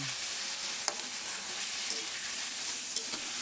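Shrimp sizzling steadily in garlic butter in a pan, a dense, even crackle close up with a few faint clinks of a utensil and no speech.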